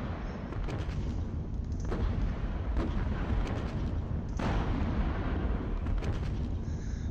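Gunfire and artillery shooting in the wargame Panzer Battles Kursk, with a dense, continuous rumble of blasts and cracks and sharper bursts standing out now and then, heard alone without any voices.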